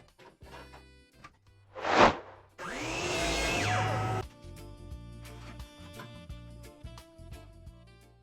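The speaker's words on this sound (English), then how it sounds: "Next, I made another miter cut for the base" A miter saw spins up and cuts through a piece of scrap wood for a 12-inch base: a short whine at first, then a loud, steady buzzing cut of about a second and a half, followed by quieter clatter and handling noise.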